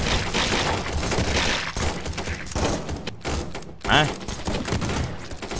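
Gunfire from a gun in a zombie survival video game: dense, rapid bursts of shots packed together over busy game noise, loud and close, with a brief shout in a voice partway through.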